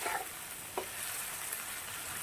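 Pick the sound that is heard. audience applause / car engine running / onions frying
onions frying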